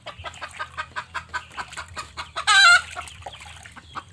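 Chickens cluck in a steady series of short calls, with one louder squawk in the middle, fairly close by.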